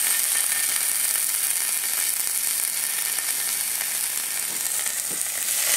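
Yakiniku meat from a party hors d'oeuvre set sizzles on a hot plate, a steady close hiss of frying that continues without break, with faint scraping.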